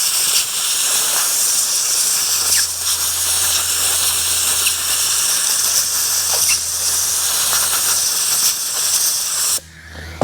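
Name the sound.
compressed air blowing through a trailer bearing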